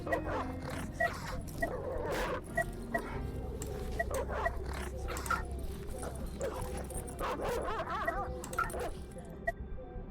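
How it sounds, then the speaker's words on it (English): Dogs in the horror video game Bunny Hill Horror eat tainted meat from a bowl, with repeated wet chomps, snuffles and small clicks over a low, droning background. "You drop the tainted meat into the bowl and the dogs eat it up along with the potion."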